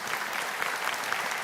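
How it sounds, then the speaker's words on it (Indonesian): A crowd at a religious gathering applauds in a short, even burst of dense clapping. The sound is moderately loud, with no distinct voices on top. "Berarti tepuk tangan buat Satgas ST."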